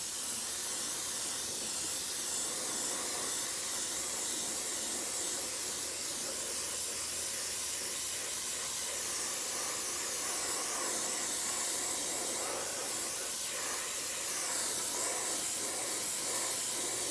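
A paint spray gun with a large needle at high pressure, a continuous loud hiss of spraying paint that runs unbroken and close throughout.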